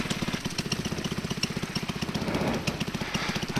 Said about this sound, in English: Little rotor coming over the trees at the moment.